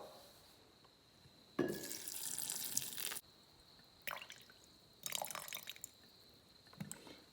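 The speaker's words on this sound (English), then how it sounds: "we're going to add 707 mils of water." Water is poured into a jar in several separate bursts, close and splashy, each lasting about a second, with quiet pauses between them.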